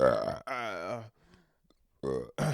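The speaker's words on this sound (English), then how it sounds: "a nice burp for y'all" Loud, close burps, a couple of long croaking belches separated by short pauses, with no speech.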